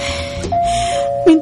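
A doorbell pressed at a house gate rings as a steady electronic tone, with a brief louder chime burst near the end.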